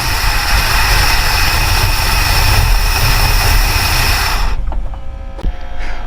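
Ford Falcon Ranchero engine with a faulty carburetor runs loud and rough, a steady heavy drone that cuts off abruptly near the end, leaving a few faint knocks and a quiet tail.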